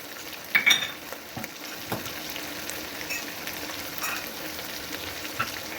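Green chili, peanuts, garlic and bay leaf frying in oil while being stirred: a steady close sizzle with scattered scrapes and clinks of a spoon against the pan, no voices.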